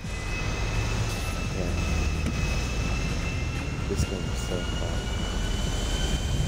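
Airplane engine in the GTA 5 video game, a steady loud droning roar that continues throughout with a faint voice over it.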